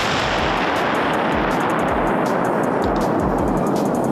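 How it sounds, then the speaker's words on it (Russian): Explosive devices set off during a forensic training exercise for experts: a dense, continuous roar of blasts and rumbling fills the whole stretch, loud and close, with no pause or quiet gap. "Они увидели воочию взрывы, которые произошли с различной"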